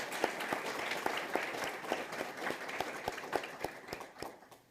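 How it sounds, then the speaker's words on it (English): An audience at a teacher of the year recognition event gives a round of applause for behind-the-scenes workers, a fairly faint, even patter of clapping with a few sharper individual claps standing out. "Let's give them a round of applause for all their hard work."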